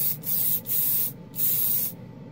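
Metallic red spray paint hisses from an aerosol can in three short, close bursts with brief pauses between them.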